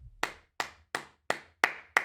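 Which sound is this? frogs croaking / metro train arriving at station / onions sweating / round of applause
round of applause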